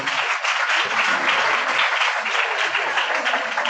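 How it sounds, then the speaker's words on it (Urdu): A church congregation at a Christmas service in Gujranwala claps loudly and continuously, a bright, dense roar of hands filling the room without pause. "آئیں یسوع مسیح کے لیے زوردار تالیاں بجائیں گے"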